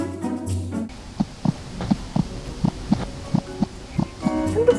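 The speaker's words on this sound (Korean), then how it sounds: "심장 뛰는 소리처럼 들리는데요?" A phone gives off a heartbeat sound, a regular series of soft low thumps about two per second, faint and close, with noise before and after.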